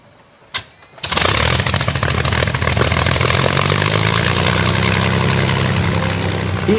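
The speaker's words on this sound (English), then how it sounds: "The Merlin, built by Rolls-Royce, is exactly the same engine which powered the Spitfire" Rolls-Royce Merlin engine of a Lancaster bomber starting: a short cranking cough, then the engine catches and settles into a loud, steady, rough-edged roar that holds to the end.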